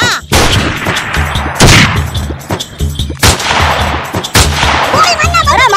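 Rapid bursts of gunfire in a rural Gujarati comedy film, loud and close, with several sharp shots and rattling volleys in irregular clusters over a busy background.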